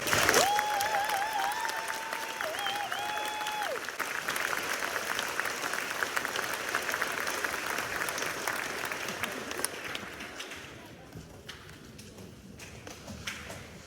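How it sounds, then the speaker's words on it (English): Audience applause for the composer at a high school honor choir concert, a sustained crowd clapping that carries steadily, with a voice speaking over the start, then thinning toward the end. "one more round of applause for our composer."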